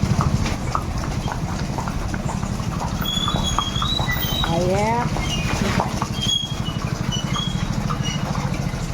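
Horses' hooves clip-clop steadily on a night ride, a fast, even rhythm close by that runs throughout, with a few faint voices and a short bird-like chirp in the background.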